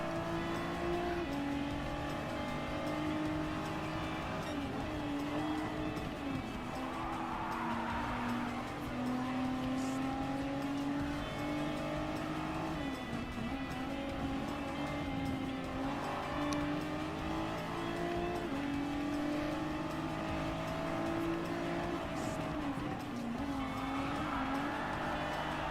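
A four-wheel drive Nissan GT-R Nismo racing around Brands Hatch in Project Cars 2, its engine droning steadily and loud throughout with rising and falling revs and layered mechanical whine, no talking.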